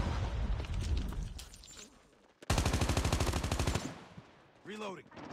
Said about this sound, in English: the fire rate on this gun is amazing